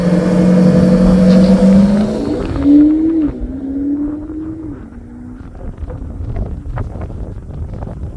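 A 2015 Audi SQ5 3.0 BiTDI diesel launches hard from a standstill, its engine note climbing steadily in pitch through a couple of gear changes while heavy wind and road roar build around the cabin.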